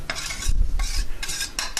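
A metal spatula stirs vegetables in a stainless steel pan with melting butter, giving repeated scraping strokes in an uneven rhythm over a soft low sizzle, close and moderately quiet.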